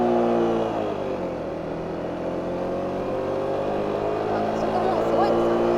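A Honda Rebel 250 motorcycle, 2020 model, accelerates on a touring ride, its engine note climbing steadily and loud and close over continuous wind rush, with no talking.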